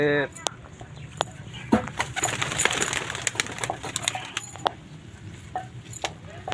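A fancier's pigeon, kept for long-duration flying, coos softly amid scattered clinks and rustling background noise, with a brief voice at the start.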